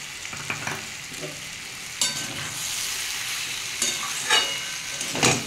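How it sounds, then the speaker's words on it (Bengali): Pointed gourd and potatoes frying in a pan while roasted ground cumin spice is stirred in, a soft steady sizzle broken by several sharp scraping stirs of the spatula; no talking. "দিয়ে ভালো করে এটা মশলাটা মিক্স করে নেবো।"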